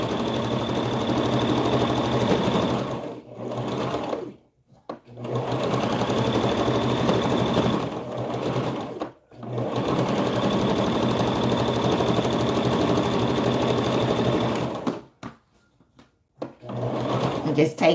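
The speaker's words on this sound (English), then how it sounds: "I'm sewing about a 3/8 inch seam away from the edge." A sewing machine runs steadily as it stitches a seam on satin bonnet fabric, a close, continuous whirring hum in long bursts broken by a few short pauses, with no talking over it.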